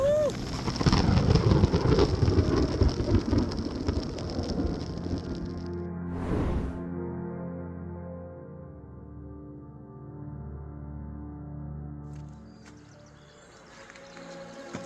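Violent thunderstorm in June with rain and thunder: a steady, loud wash of rain throughout, with one sharp thunder crack near the middle and a low rumble lingering after.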